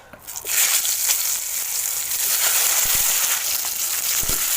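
Eggplant slices fry in hot oil in a Bengali home kitchen, giving a loud, steady sizzle with fine crackles that carries on without a break after a quiet start.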